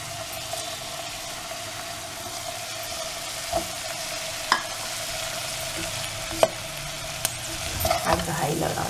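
Chopped vegetables sauté in a pan for wheat upma, a steady close sizzle with occasional sharp clicks and scrapes of a spatula stirring, and a faint hum running underneath.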